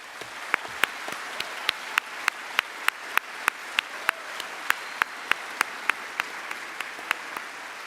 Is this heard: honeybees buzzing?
no